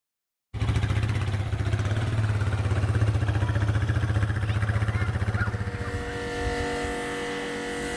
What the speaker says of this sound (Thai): เปิดมาก็เป็นภาพเรือสวยๆนะคะ เรือวัยรุ่น ขับผ่านมาค่ะ